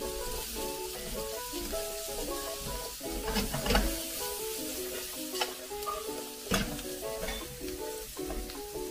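Onions and vegetables sweat in a hot pan, a continuous close sizzle and hiss with occasional stirring scrapes and crackles, no talking.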